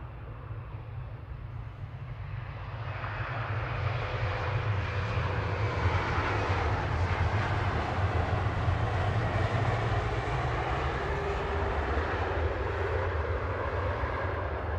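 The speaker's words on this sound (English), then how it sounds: "KLM 1037 from Amsterdam there, that's an E2, an E195 E2." KLM Embraer E195-E2 airliner arriving from Amsterdam at Manchester Airport, a loud, steady jet engine roar that builds within the first seconds and holds as the aircraft passes near, with no voices.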